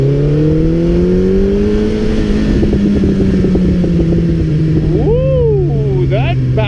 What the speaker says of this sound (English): That backfire is sexy.